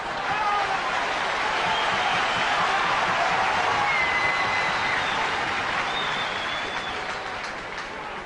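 A large rugby crowd at the 1989 Swansea versus All Blacks test match, a continuous roar of cheering and applause building in excitement, with a commentator talking over it.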